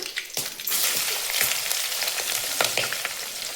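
Curry leaves and green chillies hiss and crackle in hot oil for a girmit snack, a loud steady sizzle with a few sharp pops.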